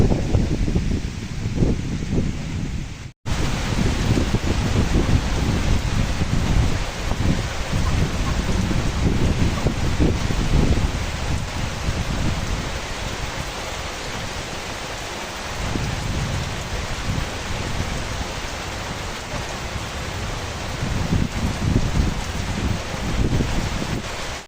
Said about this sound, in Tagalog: Ayan, ang tagal din po ng ulan